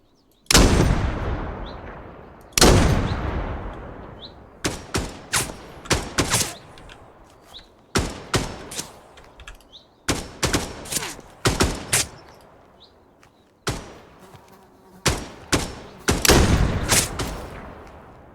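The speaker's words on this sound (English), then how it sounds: "Someone else was shooting." Video game gunfire in Dagger Directive: loud, close bursts and single shots come in repeated clusters separated by short silences, with no talking.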